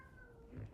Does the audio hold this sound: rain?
no